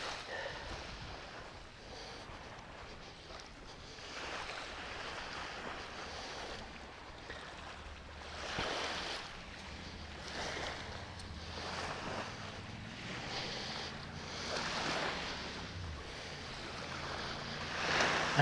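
Waves wash onto a beach in Phuket in steady, rolling swells, mixed with gusts of wind noise on the microphone. The surf is moderately loud, and nobody speaks.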